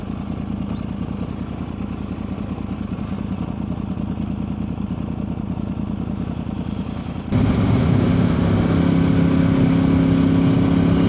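A 2009–2014 Yamaha R1 sport motorcycle's cross-plane engine idles with a rough, steady rumble, then suddenly revs louder and keeps running at a higher, busier pitch.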